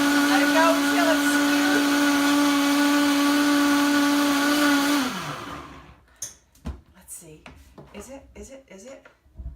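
A Vitamix blender blending vegan mozzarella whines loudly and steadily for about five seconds, then spins down and stops, followed by quiet clinks and handling noises nearby.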